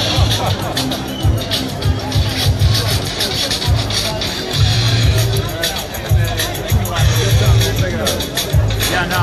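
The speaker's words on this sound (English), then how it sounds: "The crowd eagerly awaits the concert." A large crowd of Juggalos at a march in Washington DC waiting for a concert, a steady babble of many overlapping voices with shuffling and a repeating low musical thump nearby.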